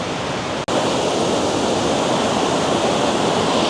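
Loud, continuous roar of a waterfall, dense and unbroken apart from a split-second dropout near the start.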